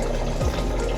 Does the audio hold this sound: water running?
yes